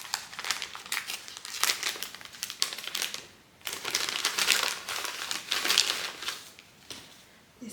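Paper crinkles and crumples as an advent calendar box is opened, loud close bursts of rustling with brief pauses between handlings, no talking.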